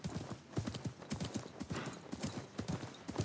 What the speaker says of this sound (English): Every time I call the horse, it runs into me.